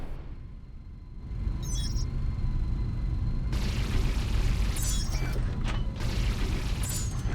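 An enemy spacecraft is destroyed in a space combat game, with a deep rumbling explosion swelling up and then sustaining under bright mechanical chirps and crackles, moderately loud against a low engine hum.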